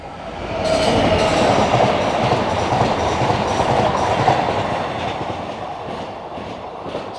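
A train rumbles through a level crossing, loud and close, with a sustained roar and rhythmic clatter of wheels on rails over several seconds.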